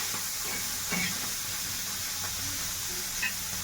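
Dried salted fish, Odisha-style luni sukhua, frying in hot oil with a steady close sizzle and hiss, broken by a couple of brief stirring clinks.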